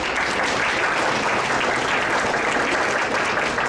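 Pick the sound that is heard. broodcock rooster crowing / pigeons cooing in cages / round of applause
round of applause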